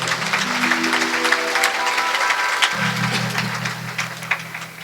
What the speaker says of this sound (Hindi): हमारे दिलेश्वर भैया के लिए जोरदार ताली बजाएंगे।